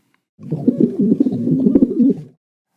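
Pigeons cooing, a close burst of soft, throaty, rolling coos lasting about two seconds against a quiet background, with no talk.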